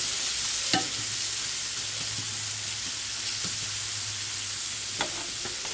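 Finely diced vegetables brown in a pan, making a constant close hiss of frying with occasional knocks and scrapes from stirring, and no speech over it.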